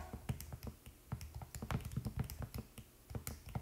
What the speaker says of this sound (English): You might hear my calculator clicking.